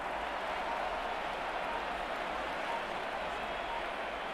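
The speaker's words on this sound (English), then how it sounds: "the home crowd applauding" A home stadium crowd in the Madden NFL 23 football video game applauds and cheers, a steady dense wash of clapping and roar heard from a distance, continuous and even in level.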